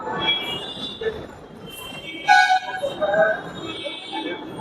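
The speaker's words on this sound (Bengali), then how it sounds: "ট্রেন যাচ্ছে, এই ডানকুনি ট্রেন" A Dankuni commuter train rumbles past near Dakshineswar with metallic wheel squeals, while people talk nearby.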